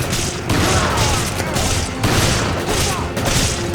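Continuous gunfire and blasts in the video game Resident Evil 5, loud and dense, with bursts pulsing roughly every half second to second and a speaking voice faintly mixed underneath.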